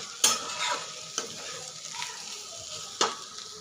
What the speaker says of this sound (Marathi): अशा पद्धतीने कोथिंबीर घातल्याच्या नंतर आपण परत एकदा त्याला व्यवस्थित मिक्स करून घेऊया।